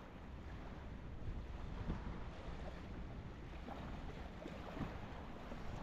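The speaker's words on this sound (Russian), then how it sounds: "Ветер. Волна." Steady wind buffets the microphone while waves lap against a boat on the water during a late-November fishing trip outside town, a constant low roar with no talking.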